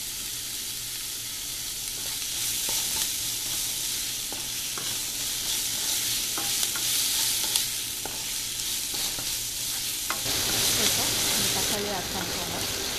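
Onions and curry leaves sizzle and fry steadily in a pan for a beans and shrimp dish, with repeated stirring scrapes and a brighter burst of frying near the end.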